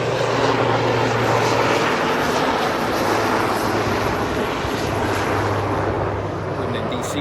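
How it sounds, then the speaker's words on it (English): A helicopter passes overhead in Washington, DC, its engine and rotor making a loud, steady, broadband drone that fills the whole stretch without a break. "There's a helicopter."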